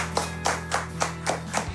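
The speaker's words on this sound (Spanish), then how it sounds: "Un aplauso, por favor, para él." Five slow, steady claps, roughly one every third of a second, close and moderately loud over a low electrical hum on the set of a Chilean football talk show.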